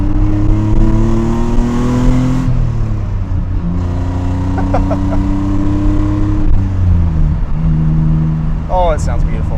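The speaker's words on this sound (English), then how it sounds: "mufflers out back, and they sound absolutely beautiful" Deep, throaty exhaust from a 1991 Nissan 300ZX Z32 twin turbo rumbles close by, rising and falling as the engine is revved repeatedly, loud and continuous throughout.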